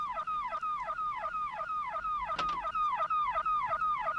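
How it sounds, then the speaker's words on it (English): Car alarm wailing in a fast, steady cycle of rising and falling electronic tones, moderately distant and continuous throughout. "We've got that car alarm going off"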